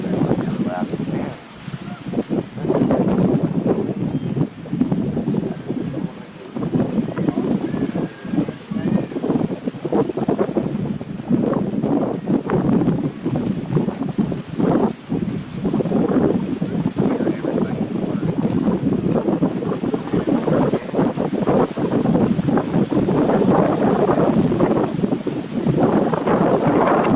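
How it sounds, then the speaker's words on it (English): Strong wind buffets an outdoor microphone with continuous rumbling gusts that rise and fall loudly for the whole stretch, muffling everything else. "That wind."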